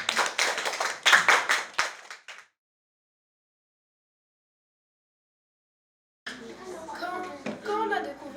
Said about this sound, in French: applaudissez pour elle aussi